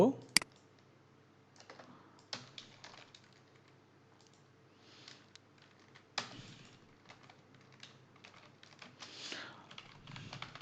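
Code typed on a computer keyboard, with scattered soft key clicks and short bursts of typing at close range, faint and irregular over a low background hum.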